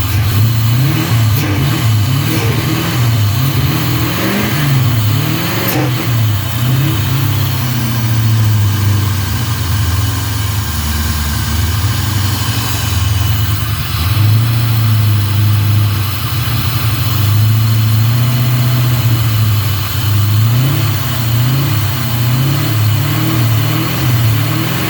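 A 1990 Corvette with an L98 V8 and LT1 intake idles loud and close, its deep burble rising into several revs and falling back to a rough, cold idle throughout.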